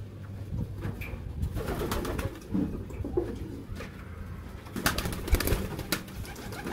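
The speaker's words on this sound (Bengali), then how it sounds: "এখন আমি পরে পায়রা দেখাচ্ছি এখন।" Pigeons kept at home coo softly and repeatedly at close range over a busy rustling background, with a few faint wing flutters.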